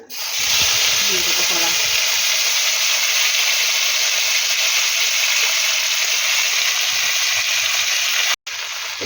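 Panch phoron spices hit hot oil left from frying mourola fish, giving a loud, steady broadband sizzle that runs almost unbroken for the whole stretch, with a brief cut near the end and a little low clatter early on.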